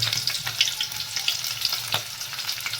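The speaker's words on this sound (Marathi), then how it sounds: "आता मग हलवून द्यायचे कांदा एकदम भाज्याचा भाजला पाहिजे" Onions sizzle and crackle steadily in hot oil in a pan for a vegetable biryani, with repeated scraping strokes of a spatula as they are stirred, close and continuous.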